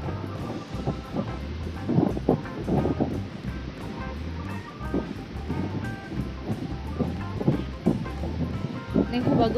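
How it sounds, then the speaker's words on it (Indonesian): Strong wind at Pangandaran Beach roars steadily across the microphone with a broad, continuous rush, while people talk over it throughout. "Ini juga anginnya besar nih."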